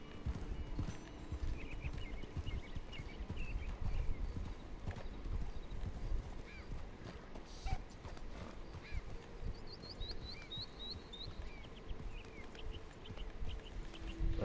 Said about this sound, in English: Remember, don't overwork your horse.